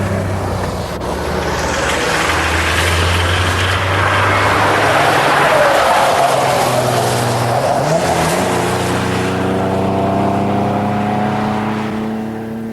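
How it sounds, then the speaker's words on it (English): Loud engines of elderly classic cars revving hard and accelerating on the Stelvio mountain pass, rising pitch sweeping across the clip with a strong steady roar and some tyre noise. "I think you'll get him on the Stelvio, Mike, if you use all the revs"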